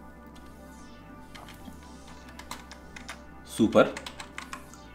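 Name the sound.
typing on a computer keyboard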